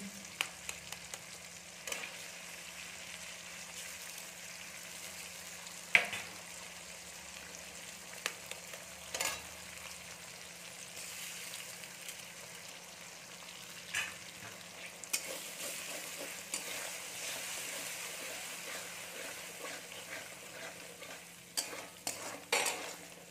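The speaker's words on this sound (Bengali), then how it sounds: "এবার আমরা এর মধ্যে দিয়ে দেবো ডিম।" Egg fries in a pan with chopped tomato and green chilli for lemon rice, a soft, fairly faint sizzle with scattered light taps and scrapes of stirring, no talking.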